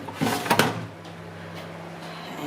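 A fridge drawer is pulled open with a short scraping slide and a couple of sharp plastic knocks near the start, followed by a quiet, steady hum in the kitchen.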